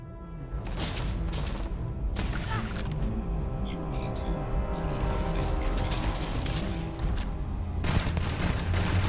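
Rapid bursts of gunfire crackle repeatedly over game sound effects and background music in Starfield, loud and close throughout.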